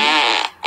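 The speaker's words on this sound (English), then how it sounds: "Try and time fart noises every time Mario dies." A short, buzzy fart noise sound effect plays as Mario dies in an unfair Mario game, loud and brief, cutting out and then starting again at the very end.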